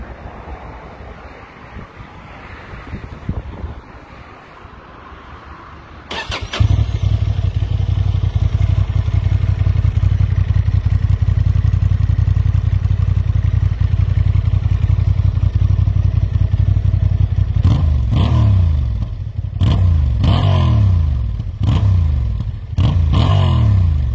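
A Honda Transalp motorcycle rides at speed, its engine a loud steady drone under heavy wind roar after a quieter start, with a few sharp buffeting bursts near the end.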